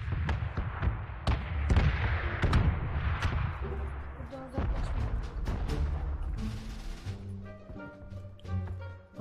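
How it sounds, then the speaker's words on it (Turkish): Bomb explosions rain down during a PUBG match, a dense run of sharp booming blasts and crackling bursts near and far, fading into scattered impacts and tonal game sounds toward the end. "Her yerden bir bomba üzerimize geliyor."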